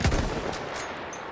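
Gunfire in the Battlefield 1 video game: a single sharp shot at the very start that quickly decays into a lingering reverberant tail.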